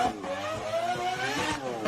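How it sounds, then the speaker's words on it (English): A rotary-engined car revs hard, a buzzing, high-pitched engine note that climbs and holds close and loud for a couple of seconds. "Rotaries, probably a top 3 sounding engine."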